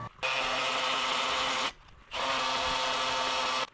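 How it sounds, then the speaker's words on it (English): Vibratory hammer drill boring into rock, two long steady bursts of loud buzzing grind, each lasting over a second, separated by a brief pause. "This is just one of those vibratory hammer drills. It doesn't have a chance of getting into that rock."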